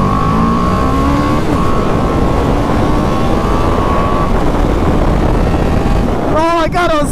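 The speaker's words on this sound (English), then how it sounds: "A little single cylinder thumper. 310 cc's of raw German horsepower." A BMW 310R single-cylinder motorcycle engine revs loudly and rises in pitch as it accelerates, with steady wind rush over the microphone and a second rapid rev burst near the end.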